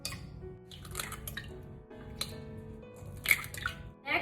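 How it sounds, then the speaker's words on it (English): Eggs cracked into a nonstick pan on medium to high heat make a few close, wet taps and soft squishy drips, scattered among quiet kitchen handling noises. "Now let's crack our eggs."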